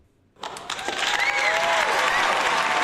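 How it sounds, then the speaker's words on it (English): Applause sound effect bursts in after a brief silence and holds steady, a dense, loud clatter of many clapping hands with light crowd noise, no talking. "Let's give you a round of applause"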